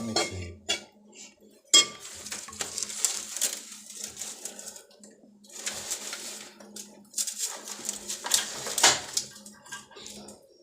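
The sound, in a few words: mixing cooked beef into masala in a pot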